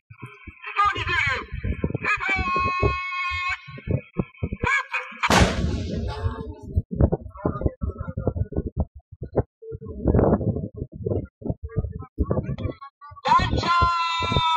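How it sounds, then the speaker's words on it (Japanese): Concentrated fire from 203mm self-propelled howitzers at a live-fire exercise near Mount Fuji, with sharp booms cracking out among a narrator's announcements and crowd chatter, one blast standing out loud and near. "はじめに 203mm 自走榴弾砲による集中射撃をご覧いただきます。"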